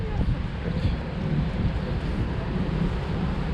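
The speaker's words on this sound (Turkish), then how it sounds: "Güzel bir rüzgar var." Steady wind rushes and buffets the microphone, a constant low roar with no clear voices.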